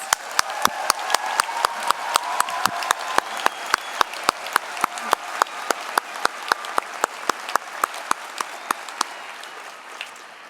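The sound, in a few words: applause for graduates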